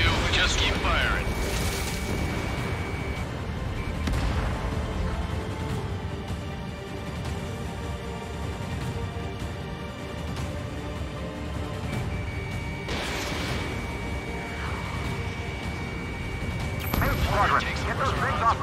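Missile launches and explosions in the Ace Combat 7 flight game, heavy booms and crashes swelling over a continuous roaring engine bed, with a couple of sharp bursts and radio-style voices talking throughout.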